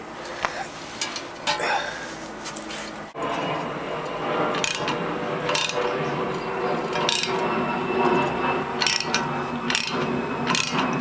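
A ball joint press cranked by hand to install a lower ball joint on a 1995 Honda Civic, a steady run of ratcheting clicks and mechanical grinding, close and fairly loud, with brief talk near the start.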